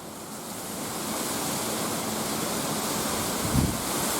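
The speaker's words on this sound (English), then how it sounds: "It's so windy," Strong wind blows steadily through a palm tree outdoors, a broad continuous rushing roar with a brief louder gust near the end and no voices.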